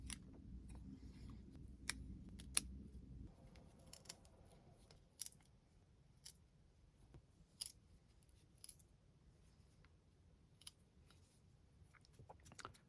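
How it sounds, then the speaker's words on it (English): Scissors trimming back branches of a jade bonsai succulent during a repot and prune; a series of sharp, isolated snips spaced irregularly, close but faint, over a quiet room with a low hum at first. "I'm just gonna trim some of these back a little bit because we don't need them super long."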